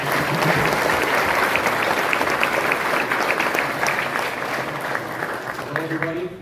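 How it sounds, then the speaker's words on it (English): A crowd at a political youth event gives a steady round of applause as a young man is called up onto the stage, with dense, sustained clapping throughout that eases slightly toward the end. "let's give Adam a round of applause."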